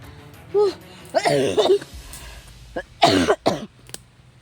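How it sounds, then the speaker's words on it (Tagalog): A person coughs in several harsh bursts, close by, with short pauses between them. "Inuubo pa ako ng husto."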